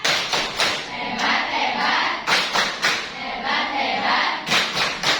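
A school class does a 'tepuk hebat' cheer for a group of pupils, with rhythmic bursts of clapping and thumping mixed with loud shouted chanting from many voices filling a classroom.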